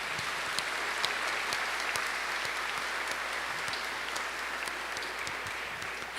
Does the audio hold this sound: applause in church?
yes